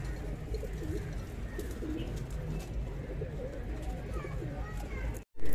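Lal Ambarsare high-flyer pigeons coo softly and repeatedly nearby, their low throaty calls layered over a steady background hum.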